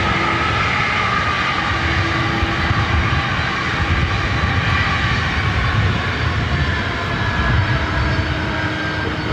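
Boeing 767-300ER airliner taking off from runway 24 right at LAX, a loud continuous jet engine roar holding steady throughout with no voices.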